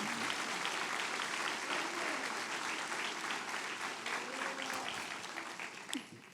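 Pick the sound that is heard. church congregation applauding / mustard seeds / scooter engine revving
church congregation applauding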